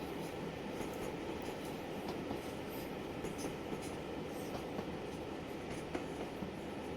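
Class 37 diesel locomotive in Train Simulator Classic on the Kyle of Lochalsh to Inverness line, a steady rumbling run with continuous rail noise and faint clicking wheels, no talk.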